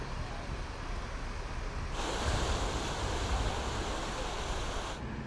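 Sea surf breaks at Digha beach where a river meets the sea, a broad steady wash of waves that swells louder midway, with wind buffeting the microphone.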